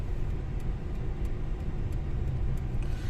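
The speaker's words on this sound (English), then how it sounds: "Let's go for a drive down here," A car driving along a residential street lined with multi-million euro villas in Coral Bay, Peyia, heard as a steady low engine and road rumble with constant tyre noise, close and continuous, with no talking.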